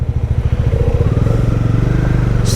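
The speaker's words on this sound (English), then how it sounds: "And there's an R1 also for a change. I mean a super bike, that is." Yamaha R1 superbike engine running loud and close, a steady throbbing idle with a brief rev near the end, on a road trip between Bagan and Inle Lake in Myanmar.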